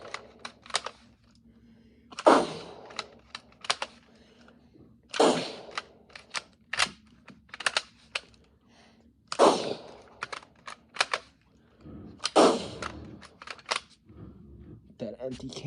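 A Model 04 Goliath toy gun fires and ejects shell casings: four loud, sharp reports a few seconds apart, close up, with lighter clicks and clatter from the action between them.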